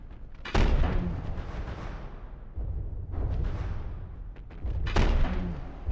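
Particle accelerator cannons firing in a video game: heavy booming blasts land at intervals, each a loud burst trailing into a rumbling roar before the next impact.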